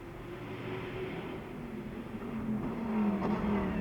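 An Orica LMPC race car completes a lap at the Sonoma Speed Festival 2019, its engine a steady, fairly distant drone that swells slightly louder toward the end.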